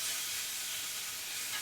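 Steady, dense sizzling from steak fajita meat and peppers dropped onto a hot skillet, a continuous crackling hiss with no voices.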